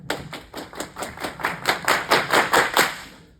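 A group claps together in a steady rhythm exercise, about fifteen even, crisp claps building gradually from quiet to louder before stopping, with no talking.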